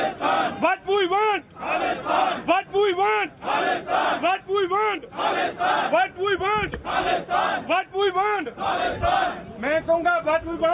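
A crowd at a protest outside UN Headquarters in New York chants slogans in loud, rhythmic call-and-response bursts, many voices shouting together in repeated phrases with brief gaps between them.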